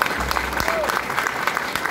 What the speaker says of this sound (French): vous pouvez les applaudir parce qu'ils le méritent